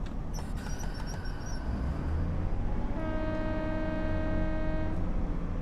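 A train horn in the Train Sim World 6 simulator on the Thames Valley branches gives a sustained, fairly loud tonal toot at Cookham level crossing over a steady rolling rumble of the train.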